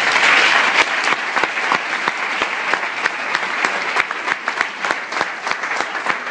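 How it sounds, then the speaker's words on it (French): A crowd at a gathering claps continuously to welcome Dr. Jean Raoult, a dense, sustained wash of applause with sharp individual claps standing out throughout. "Sous les acclamations, on accueille le docteur Jean Raoult."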